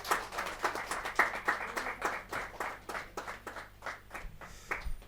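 Scattered clapping from a small audience at a Hindi poetry gathering, a handful of uneven claps close by, fairly quiet and spaced out rather than a full ovation.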